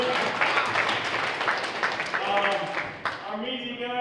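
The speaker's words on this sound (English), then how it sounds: "let's give them a round of applause" A football banquet crowd applauds the team trainers, a dense, steady wash of clapping with voices mixed through it, tapering off as a speaker's voice takes over at the end.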